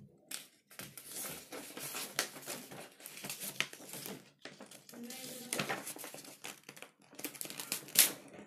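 A sheet of paper is folded into a paper eagle, producing crisp rustles and crinkles in short, uneven bursts close by, with brief pauses between creases.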